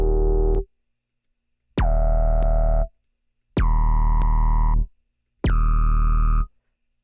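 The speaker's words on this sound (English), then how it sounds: "you can hear the specific tone that's being amplified." Synthesized drum tone made in the Vital synthesizer with one harmonic boosted, four sustained buzzy electronic notes each starting with a sharp click, separated by silence, the brighter partial rising in pitch from note to note.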